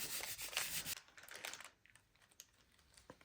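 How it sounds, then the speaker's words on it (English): A white coffee filter rubs over pearlized wine-red paint in soft, quiet scrubbing strokes, busier at first and then fading to a few faint brushes and light taps. "Let's use our white coffee filter. And we'll just put it on there and give it a rub."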